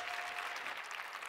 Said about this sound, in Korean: 그러면 이 김도영님의 이야기를 박수로 열어주시기 바랍니다